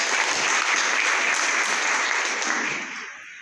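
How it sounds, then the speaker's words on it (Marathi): A crowd at a felicitation ceremony for meritorious tenth-standard students claps loudly and steadily for about three seconds before the applause tapers off. "सर्व गुणवंत विद्यार्थ्यांचे एकदा जोरदार टाळ्या होऊ द्या."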